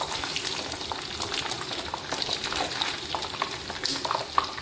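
Chicken skin frying in a pan gives off a steady, dense crackle and sizzle that holds at an even loudness from start to finish, with small sharper pops scattered through it.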